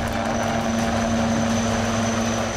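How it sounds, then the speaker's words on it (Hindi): An HAL Dhruv advanced light helicopter makes a steady, loud rotor and turbine drone with a strong constant whine. It sounds close and runs unbroken throughout, with no talk. "HAL यानी एडवांस लाइट हेलीकॉप्टर ध्रुव"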